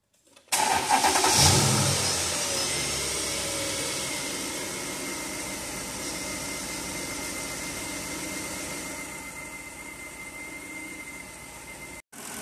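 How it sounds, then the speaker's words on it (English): A 2007 Mercedes S550 engine with a misfire cranks and catches, then settles into a steady, loud idle close by, running alone until it cuts off near the end. "So let's get it idling and see what it looks like."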